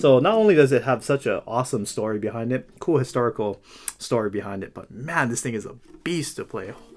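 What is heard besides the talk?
No everyday noises stand out.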